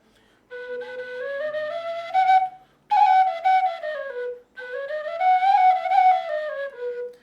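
A breathy, inexpensive Thai wooden flute plays three sustained melodic phrases with gliding, bending notes, close and clear, separated by short pauses.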